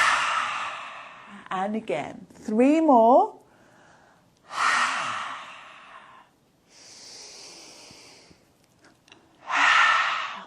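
Forceful yoga exhalations with the tongue out during a hatha flow class, several strong breathy bursts alternating with an instructor talking, loud and close.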